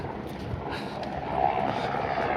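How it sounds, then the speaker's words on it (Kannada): A helicopter drones overhead near Kedarnath temple, a steady engine rumble that swells slightly louder as it passes. "5 ನಿಮಿಷಕ್ಕೆ ಒಂದು ಹೆಲಿಕಾಪ್ಟರ್ ಹೋಗ್ತಾಯಿದೆ, ಹಿಂಗೆ ಬರ್ತಾಯಿದೆ."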